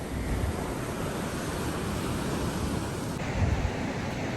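Surf rolling onto an empty beach in Goa, heard as a steady, broad wash of breaking waves that carries on without pause and swells slightly near the end, with no voices over it.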